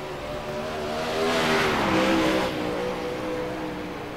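A dirt-track race car in the iRacing game, running around 100 mph hard against the wall at Charlotte, roars with a steady, loud engine drone that swells briefly in the middle and carries some tire noise, with no talk.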